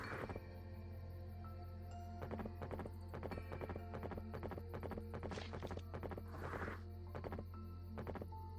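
A horse's hooves clip-clop in a steady walking rhythm in a Zelda video game, repeating evenly over a constant droning game music bed with no talking.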